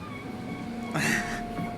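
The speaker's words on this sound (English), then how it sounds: "You climb onto this train car, and the circular door spirals closed behind you." A circular train-car door spirals shut as a sound effect: a steady mechanical hum carries throughout, broken midway by a short, loud hissing whoosh of the closing door before the hum settles back.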